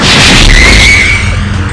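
A loud booming blast with a crunchy burst, followed by a sustained rumbling decay, a Bomb fruit explosion heard up close in the video game Blox Fruits.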